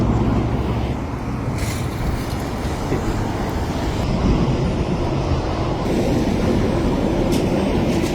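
A heavy freight locomotive rumbles past nearby on the Tree Island spur line in a steady, loud drone, with broad engine noise and no talking.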